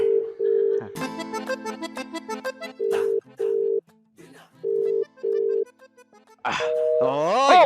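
A phone call rings out unanswered, repeated short electronic ring tones in an even on-off pattern, loud and close, broken by a brief musical jingle and ending in a rising warbling tone.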